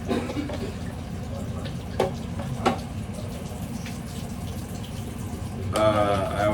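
Water from a kitchen tap runs steadily into a sink during dishwashing, with a few clinks and drips and a brief louder gush near the end.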